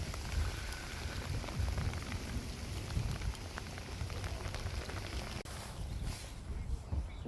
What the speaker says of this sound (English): it's just hailing like mad